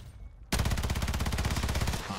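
Rapid automatic gunfire in Call of Duty erupts after a short quiet lead-in, then runs as a loud, dense, continuous burst of shots until the end.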